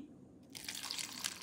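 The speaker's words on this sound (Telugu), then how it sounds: "ఈ నీళ్ళని మనం ఇలా ఈ గిన్నెలో వేసుకుని" Water is poured into a bowl for a homemade moringa-leaf pesticide: after a brief quiet moment, a close, splashy trickle begins and runs steadily to the end.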